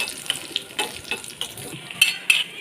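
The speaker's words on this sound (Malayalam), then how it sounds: "നെയ്യും അണ്ടിപ്പരിപ്പും മുന്തിരി കൂടി വറുത്തിടണം." Cashews and raisins fry in ghee for payasam with a close, crackling sizzle and quick scrapes and clinks of stirring in a pan.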